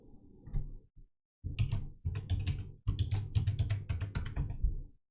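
Someone types a password on a computer keyboard, with close, crisp clusters of key clicks in short bursts, a brief pause, then a faster run of taps.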